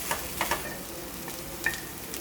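Onion with ginger garlic paste is stirred in a hot pan for chicken chatti pathiri, a low steady sizzle with a few sharp clinks of a spoon against the pan, quiet and close.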